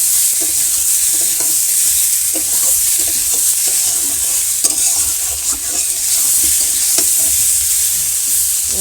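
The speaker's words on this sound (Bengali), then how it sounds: "তার পেঁয়াজটা আস্তে আস্তে করে ভাজা হবে" Steady sizzling of onions slowly frying in oil in a village kitchen, with occasional stirring scrapes of a spoon against the pan, continuous and close.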